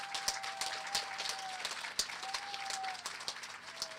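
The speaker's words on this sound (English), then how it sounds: "Please give her a round of applause." A crowd at a Scranton school board campaign gathering applauds a supporter, a steady moderate patter of clapping with some louder individual claps, plus a faint sustained tone running through it.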